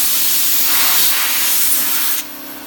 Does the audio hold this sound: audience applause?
no